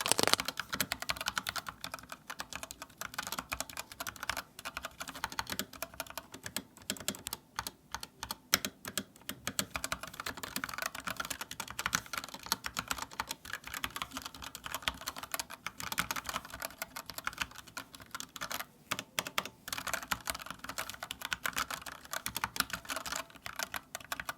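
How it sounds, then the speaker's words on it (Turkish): Rapid, continuous typing on a Miiiw mechanical keyboard with red switches, dense overlapping keystroke clicks recorded up close with no voices. "Şimdi gelin bu kırmızı switchler nasıl bir ses performansı veriyor?"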